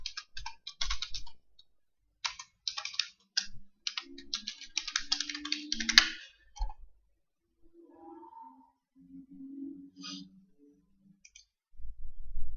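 Computer keyboard typing and mouse clicking in quick bursts, close up, with pauses between runs of keystrokes and a few isolated clicks; no one speaks.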